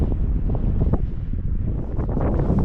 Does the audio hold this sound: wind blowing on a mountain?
yes